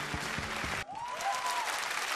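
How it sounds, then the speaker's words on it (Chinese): A television charity variety show audience claps for two donor performers; a burst of close, dense clapping cuts off abruptly, then a softer spread of applause carries on with a faint whistle-like tone over it. "我哋俾啲掌声佢哋两位"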